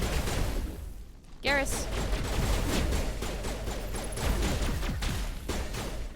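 Gunfire from a weapon in the video game Mass Effect, a burst of sharp shots around the middle mixed into busy in-game noise while a voice talks over it.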